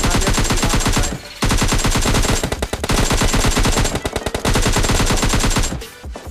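Rapid bursts of automatic gunfire in PUBG Mobile Lite, loud and close, firing in long sustained volleys with a brief pause near the start and tapering at the end.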